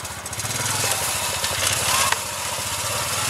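A trike engine putters in a rapid steady chug as it drives over a lawn, loud and close throughout with no talk.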